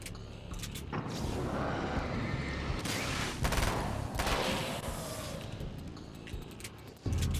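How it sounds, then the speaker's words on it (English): Sustained SMG fire in the video game Alan Wake's American Nightmare, a dense continuous rattle of rapid shots that fills the whole stretch with a few louder bursts and a sharp hit at the end. "Now this SMG's doing some pretty good work."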